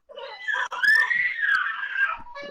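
Children screaming: a loud, sustained, high-pitched shriek lasting about two seconds with one brief break, followed by a short, thinner cry at the end.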